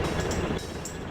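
A train locomotive in the railway-building game Chris Sawyer's Locomotion gives a steady, continuous rumble with a faint rhythmic clatter, running alone with no speech.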